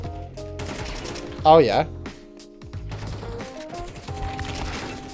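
Gunfire in the video game Counter-Strike 2, with a burst of sharp shots standing out midway over steady game sounds while a player talks throughout.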